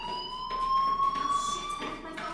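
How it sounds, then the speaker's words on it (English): A fire alarm in Life Is Strange rings loudly and steadily with a continuous electronic tone, pulsing in bursts and heard up close with no talk over it. "Hey, do you hear that fire alarm?"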